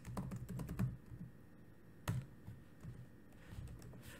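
Rapid typing on a computer keyboard while entering program input strings, with dense clacking keystrokes early, a sharp isolated keystroke midway, then lighter, sparser taps, close and clear with no talking.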